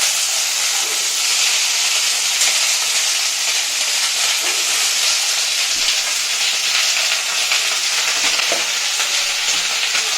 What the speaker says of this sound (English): we're going to put this curry leaves and the chopped onions